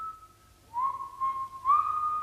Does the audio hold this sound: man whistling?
yes